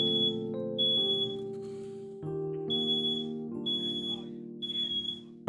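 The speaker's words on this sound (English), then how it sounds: "they have a smoke detector plugged into our wall with wires, so it doesn't ever turn off" A hardwired smoke detector that won't shut off sounds a high, piercing tone in repeated bursts while a loud, droning, humming tone layers underneath, steady and fairly close.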